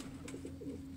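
A neighbour's pigeon coos quietly nearby, a few soft throaty pulses in a short murmuring phrase, with no speech.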